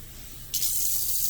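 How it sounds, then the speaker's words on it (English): Tap water suddenly gushes into a kitchen sink over rice being rinsed, a loud, steady, close splashing rush that starts partway through and continues to the end. "Now what I like to be able to do is to run enough that eventually that water gets pretty clear."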